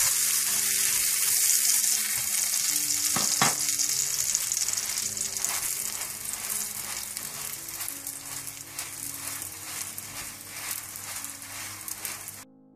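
Aloo paratha cooking in butter on a hot pan, a steady bright sizzle and crackle running throughout with a couple of brief clatters near the start, gradually easing slightly, no voices.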